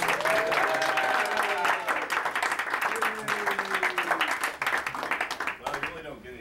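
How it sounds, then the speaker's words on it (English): An audience applauds a third-place winner at a gaming convention, dense clapping that runs throughout while people talk over it. "everybody give them applause"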